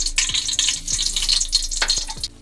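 Whole spices, two cloves, two cardamom pods and a small bay leaf, crackle and sizzle in hot oil as a steady, bright frying hiss with a few sharp pops, close and alone.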